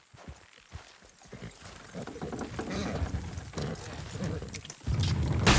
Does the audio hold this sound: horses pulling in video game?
yes